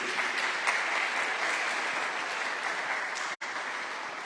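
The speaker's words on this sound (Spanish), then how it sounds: "¿Y cuántos le dan un aplauso al Señor por eso?" A church congregation applauds steadily, a dense wash of clapping at moderate distance that continues evenly and ends with a sharp cut.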